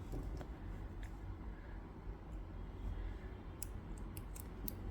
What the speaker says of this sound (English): I'm going to fasten off and cut my yarn.